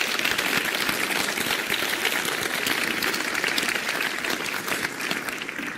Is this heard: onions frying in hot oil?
no